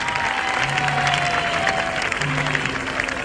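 Audience applauding at a concert at UPC, steady dense clapping from a large crowd throughout, loud and close, with faint tonal sounds beneath.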